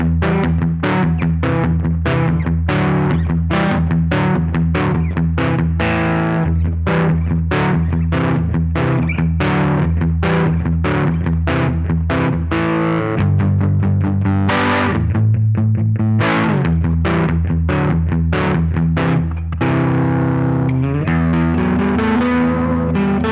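An electric guitar with overdriven, slightly gritty tone from an overdrive pedal into a Fender amp plays a busy run of chords and notes, amp reverb trailing each attack, loud and continuous.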